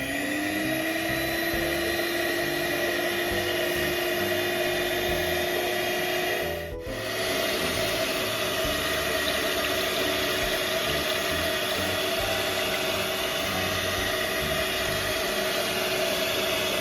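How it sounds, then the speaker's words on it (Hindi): A hand blender whirs steadily as it blends mashed banana in jaggery water, a continuous motor drone with a brief dip partway through, then a smooth return to the same steady hum. "अब इसे हम हैंड ब्लेंडर से ब्लेंड करेंगे।"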